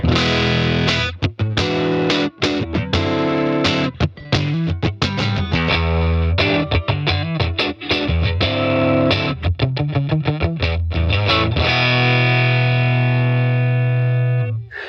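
Distorted electric guitar on the neck pickup through a Universal Audio Woodrow amp sim, loud chugging chords and riffs with sharp stops, ringing out into a sustained chord at the end, no talking.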